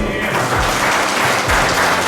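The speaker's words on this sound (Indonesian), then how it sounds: "Tepuk tangan dulu." A short burst of applause from an audience at a youth group training session, dense and fairly loud for about two seconds.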